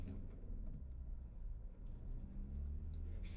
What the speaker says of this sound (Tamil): இப்போ வந்து ஹைவேல குவிக்காக வந்து ட்ரைவ் பண்ணி பார்ப்போம்